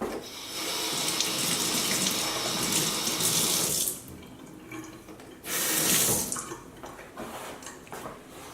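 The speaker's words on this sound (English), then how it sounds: "going to cut inside and rinse." Tap water runs steadily into a kitchen sink while cut sweet peppers are rinsed and seeded, a loud close gush that stops briefly midway, then surges again and trails off.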